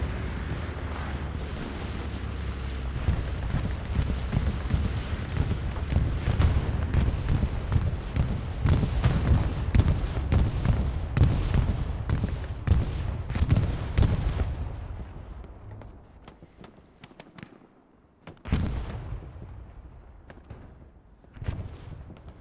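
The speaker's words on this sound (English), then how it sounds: "Bombing run on its way on the front line for Taco." Bombing run on the front line at Carentan train station in the Hell Let Loose video game: a long barrage of heavy booming explosions and cracking blasts, dense and loud at first, thinning out toward the end with a few late isolated blasts.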